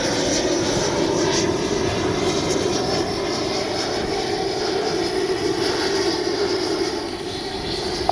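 An FMS Avanti S 90mm electric ducted-fan RC jet makes a landing pass, its steady high-pitched turbine-like roar holding loud and constant throughout before easing slightly near the end.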